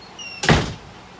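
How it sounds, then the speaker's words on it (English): A door closes with a single firm thunk, close and fairly loud, fading into a quiet room; a faint tone sounds just beforehand. "Close the door."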